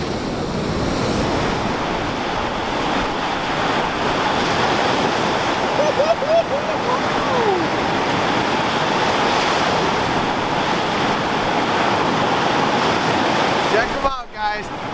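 Strong winter storm wind and rough waves pound the Lake Superior shore in a loud, steady roar of surf and gusts, with a brief thump near the end.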